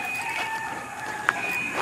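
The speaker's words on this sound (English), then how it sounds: "as you can hear, there are always chickens." Rural chickens clucking with a rooster crowing in the background, a steady faint farmyard chorus with one brief sharper call.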